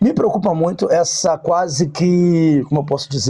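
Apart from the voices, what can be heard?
No distinct noise like a dog, phone or traffic.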